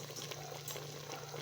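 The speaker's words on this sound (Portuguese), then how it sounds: "E agora a gente vai completar com um pouco de água." Water is poured into a pot of Brazilian carne assada, beef pot roast with bay leaf, simmering over lowered heat. It makes a continuous soft splashing and gurgling with a steady hum behind it and no talking.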